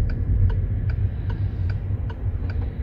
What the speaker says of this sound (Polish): Odgłos kierunkowskazu fajny, przyjemny, dosyć wyraźny.